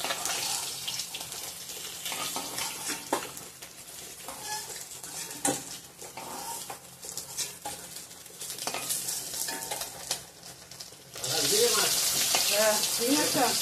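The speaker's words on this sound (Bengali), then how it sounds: "হয়ে গেছে মাছগুলো ভাজা, নামিয়ে নেব" Fish frying in oil in a pan, a soft crackling sizzle with scattered clinks and stirring, then a louder, brighter hiss of spitting oil swelling up near the end.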